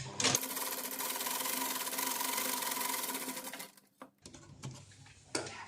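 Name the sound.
sewing machine stitching salwar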